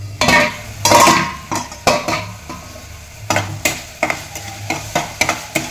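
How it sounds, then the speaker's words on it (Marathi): Onion and tomato roast in oil in a covered pan on a gas flame and are stirred now and then: scraping strokes and clinks of a utensil against the pan come in irregular bursts over a faint sizzle, close and loud, without talk. "असं अधूनमधून त्याने असं परतून घ्यायचं, म्हणजे सगळ्या बाजूने आपला कांदा टोमॅटो भाजतो."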